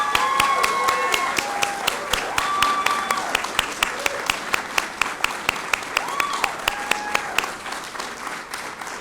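Applause at a Veterans Day opening bell ceremony, steady clapping throughout, joined by a run of sharp, evenly spaced beats that stand out above the crowd, with whistle-like tones sliding over it.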